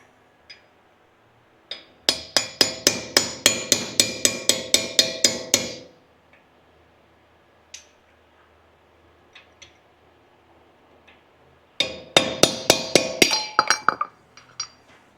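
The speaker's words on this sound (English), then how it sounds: "Just use a cold chisel and just tap this cap" Cold chisel hammered against the hub cap on a Toyota Hilux front differential: two quick runs of rapid, bright, ringing metallic taps, about a dozen each, separated by a quiet pause with a few isolated knocks.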